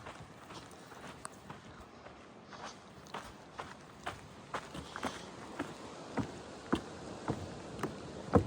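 Footsteps cross a trail bridge on a chilly, breezy Pacific Crest Trail hike, a steady rhythm of close, distinct steps growing a little louder over a light wind background.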